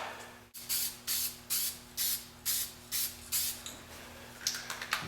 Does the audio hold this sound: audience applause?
no